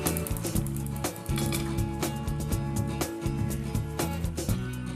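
Chicken stir-fried in a wok for three-colour fermented bean curd chicken, with steady sizzling and repeated clanks of the spatula against metal in an even rhythm throughout, close and fairly loud with no talk.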